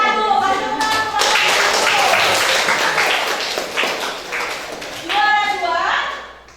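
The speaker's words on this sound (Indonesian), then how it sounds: "Kasih tepuk tangan kepada" Classroom applause for the winning group at a team game tournament, a dense burst of clapping from many children that swells, fades slightly, then rises again, with a teacher's voice and kids' chatter mixed in.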